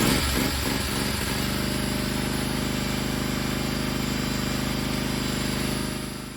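A riding mower's small engine cranks and catches, then settles into a loud, steady droning run close by before easing off at the end.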